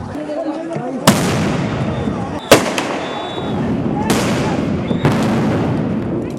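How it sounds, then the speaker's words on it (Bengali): Police sound grenades going off during a street protest in Bangladesh: four loud, sharp blasts a second or two apart, each ringing out over a continuous rumble of crowd noise. "পরিস্থিতি নিয়ন্ত্রণে আনতে একের পর এক সাউন্ড গ্রেনেড নিক্ষেপ করে পুলিশ।"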